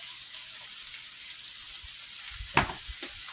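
Apples frying in a pan for homemade bread stuffing, a soft steady hiss throughout, with a brief clink and stirring noises near the end and no talk.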